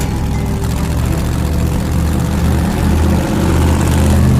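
1968 Dodge Charger engine running steadily at 1,800 RPM, a loud, close, continuous low drone with a constant throb and no speech.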